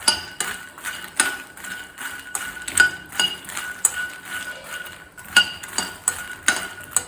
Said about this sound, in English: Just dry roast them for 2 to 3 minutes, not more than that.